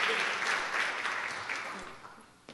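Audience applause welcoming a speaker at an evening art lecture, a dense wash of clapping that fades gradually over a few seconds, with a couple of louder claps near the end.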